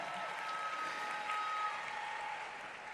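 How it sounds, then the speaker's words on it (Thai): An audience at a Thai self-development talk gives a sustained round of applause, steady even clapping from a seated crowd heard at a moderate distance with no talk over it. "ปรบมือดังๆให้กับต่ายด้วยนะ"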